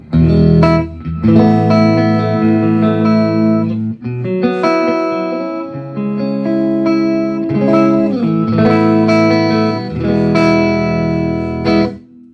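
An electric guitar plays sustained chords through the clean channel of a solid-state Fender amp with no reverb, ringing strongly with loud, full strums and short pauses between chord changes, without a voice.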